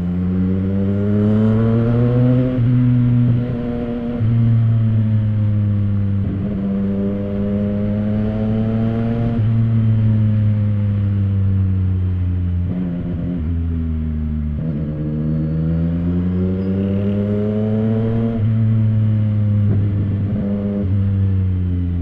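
A CFMoto 675 SR-R motorcycle with a new exhaust drones loudly and steadily for a long stretch, its pitch rising and falling with repeated revs, heard from right on the bike.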